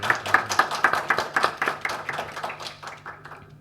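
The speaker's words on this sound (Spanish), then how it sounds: "Un aplauso para Constanza." A modest audience at a university literature colloquium applauds a presenter with a few hands clapping in a brisk, distinct rhythm close by, tapering off gradually toward the end.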